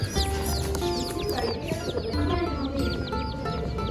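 A box of twenty mail-order Silkie baby chicks peeps nonstop, a dense overlapping chorus of high, rapid chirps, close and lively, with no talk.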